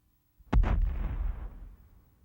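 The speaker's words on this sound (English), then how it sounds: "Upon ignition, you have a primary explosion with a very dangerous fireball being released." A dust explosion ignites inside a test explosion chamber, throwing out a dangerous fireball: one sudden loud boom that roars briefly and then tails off into a rumbling decay, with no voices.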